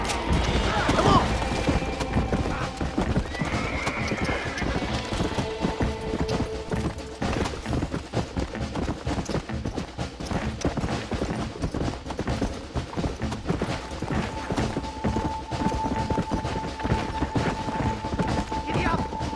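A horse gallops in the Red Dead Redemption video game, a steady rhythmic run of hoofbeats with rattling tack and game noise throughout, a voice shouting briefly early on.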